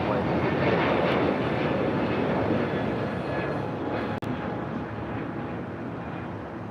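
An American Airlines A321neo airliner arriving at LAX from Miami roars steadily and loudly overhead with a broad engine rumble, and a faint voice can be heard beneath it.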